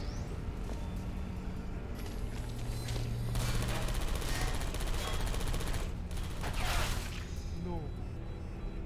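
Rapid bursts of turret gunfire in the video game Portal Stories: Mel, a dense rattling fusillade of shots running through most of the stretch over game background sound.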